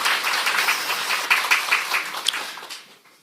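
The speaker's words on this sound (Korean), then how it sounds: "우리 안내팀들 박수 한번" A church congregation claps for its guide team during a Sunday worship service, a short burst of moderately loud applause with a few distinct claps that fades away over about three seconds.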